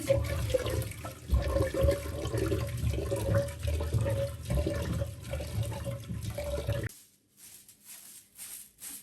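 Water runs steadily and splashes while rice is rinsed, continuous and close for about seven seconds, then cuts off, leaving quieter intermittent drips and handling sounds.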